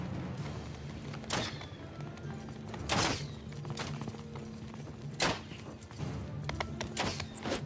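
Horse hooves of mounted archers in the Bannerlord battle game: a steady clip-clop under a low hum, with several louder, heavier thuds standing out at irregular intervals.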